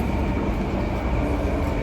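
Steady low rumble and rushing noise inside a moving metro train in Ankara, constant and enveloping with no voices.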